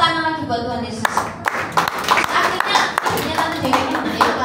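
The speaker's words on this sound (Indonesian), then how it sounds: "Tepuk tangan lagi buat Tuhan Yesus." A church congregation claps hands in a lively, fairly rhythmic burst of sharp slaps, close and loud, following a speaking voice at the start.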